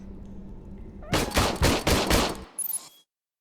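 Gunfire at a shooting range in RoboCop: Rogue City: a loud rapid volley of about five heavy shots in quick succession, followed by a couple of quieter mechanical clicks before silence.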